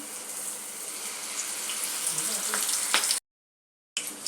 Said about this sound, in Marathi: ती सहा हिरवी मिरची तिला पण तळून घेऊया